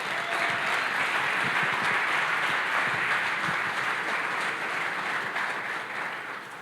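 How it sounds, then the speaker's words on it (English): A seated audience applauds steadily for a woman named Christina as she takes the stage at a business talk. The dense, even clapping holds for several seconds and eases slightly at the end, with no voices over it. "So let's give Christina a round of applause."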